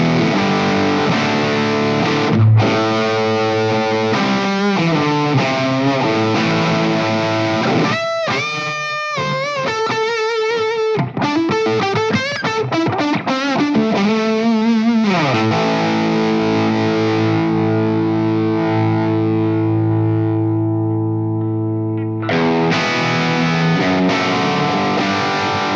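Electric guitar driven through a Wampler TCD overdrive pedal with the gain turned fully up, played as thick distorted sustained chords and rapid riffs, loud and close, with one brief break before the final ringing chord.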